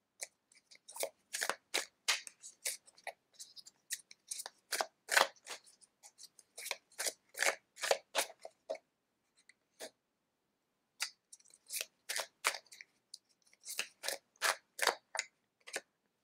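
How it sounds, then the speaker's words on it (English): Tarot cards shuffled by hand, a run of quick crisp riffling snaps in bursts, close and fairly quiet, with a short pause midway before the shuffling resumes. "And then I'm actually going to shuffle from these two."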